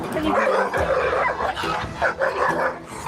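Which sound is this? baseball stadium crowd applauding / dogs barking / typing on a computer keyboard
dogs barking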